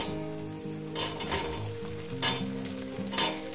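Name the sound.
okra frying in a pan with fish curry spices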